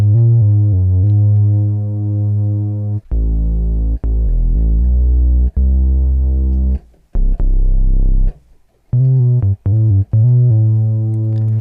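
An analog synth bass with its filter cutoff turned down, giving deep, loud, rounded low notes, some held and some short and choppy with brief gaps between them, heard alone.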